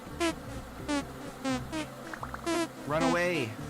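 Bees buzz in the survival video game Vintage Story near a group of ducks, in repeated short, bright, whining bursts that rise and fall, joined near the end by a longer warbling swell of game sounds.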